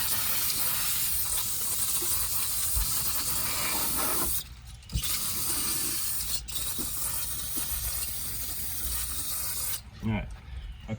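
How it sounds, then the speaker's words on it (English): Brake parts cleaner sprayed onto parts of a 1992 Ford F-150, a loud, close, sustained aerosol hiss that breaks off briefly twice and then resumes, with no talk over it. "we got some brake parts cleaner on this thing. We're gonna clean it up."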